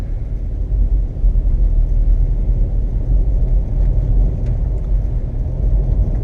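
A Subaru Impreza engine idling and running at low revs, a steady close low rumble with a faint whir, continuous and even throughout with no talking.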